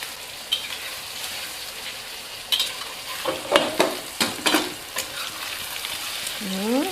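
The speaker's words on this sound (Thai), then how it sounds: "ไข่กับเต้าหู้นะคะเขาก็พอเหลืองๆนะคะทอดแค่พอเหลืองๆพอค่ะ" Tofu and eggs fry in hot oil with a steady, close sizzle, broken by several sharp scraping stirs and turns of a utensil against the pan midway through.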